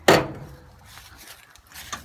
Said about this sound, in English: This door wants to come out on me.